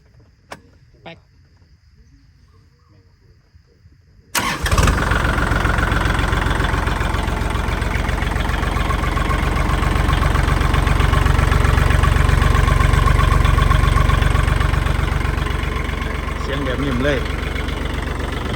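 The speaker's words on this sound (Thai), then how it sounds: "เดี๋ยวติดเครื่องให้ฟังเสียง" A Kubota L4018 tractor engine cranks and catches after a few quiet seconds, then settles into a loud, steady idle that continues to the end, with a voice talking nearby.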